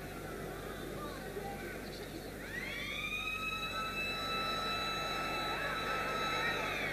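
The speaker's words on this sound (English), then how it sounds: "the full-time siren has gone" A long, steady full-time siren sounds at a 1990 rugby league match between Castleford and Australia, starting partway through and holding over a constant roar of stadium crowd noise.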